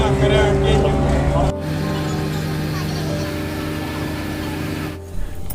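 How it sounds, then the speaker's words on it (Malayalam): A passenger boat arrives at the jetty of Pathiramanal Island in Alappuzha, its engine droning loudly and steadily, then dropping in level as it slows, with voices nearby. "നമ്മൾ വന്ന ബോട്ട് വന്നു."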